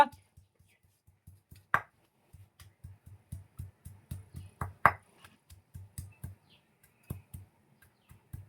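Ingredients for egg curry are ground by hand in steady, rhythmic low knocks and scrapes, repeating many times at a close, moderate level with faint bird chirps in the background.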